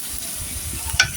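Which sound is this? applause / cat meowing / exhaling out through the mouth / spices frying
spices frying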